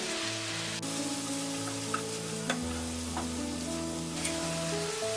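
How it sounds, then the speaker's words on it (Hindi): Spring onion and chana dal sabzi stir-fried with salt, turmeric and red chilli powder in a pan makes a loud, constant sizzle close by, with a few sharp clinks of the spoon against the pan and no speech. "हमने 10 मिनट तक इसे स्टर फ्राई कर लिया है।"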